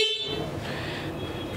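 A steady, loud horn on a Monster Jeep 250cc quad bike blares continuously for over a second, a single sustained honk.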